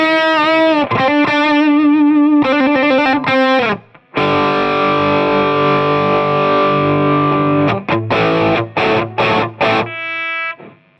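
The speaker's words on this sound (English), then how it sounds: "Let's have something overdrivey. Let's go for a Buddha overdrive." Electric guitar run through a Buddha overdrive pedal in the ReValver amp simulator, a loud distorted tone playing chords and sustained notes with short staccato stabs, heard alone without talk.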